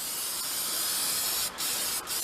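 Aerosol spray paint can hissing out a washable, ultra-hard factory-like finish, applied without primer in a workshop during a skid steer rebuild; a steady continuous hiss with two brief gaps near the end.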